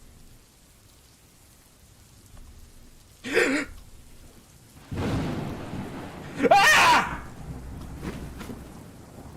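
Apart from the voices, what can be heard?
rain and thunder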